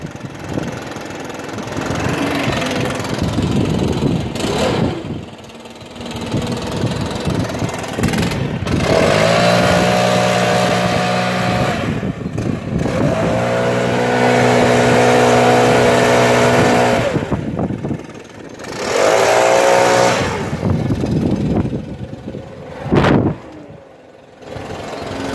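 A Stihl BR 700 petrol backpack blower engine runs loudly, idling then revving up in several bursts with a steady droning whine, near and alone without talk.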